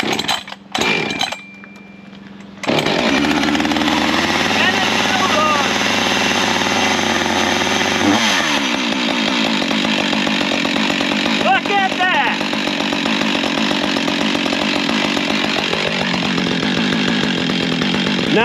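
A Husqvarna 555 chainsaw just after a tune-up: a few short pulls and sputters, then the engine catches and runs loud and close, revving up and settling back to a steady idle.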